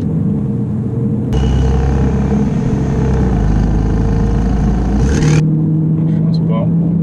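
Porsche 911 GTS phase 2 driven in eco mode on roads in Mauritius, its engine a steady low rumble that swells as the car pulls ahead, with a brief surge near the end.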